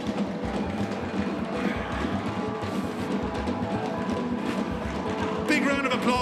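Fire gyro drummers at the Púca procession, a night street parade, pound out a steady driving drum beat, loud and rhythmic amid crowd noise and voices.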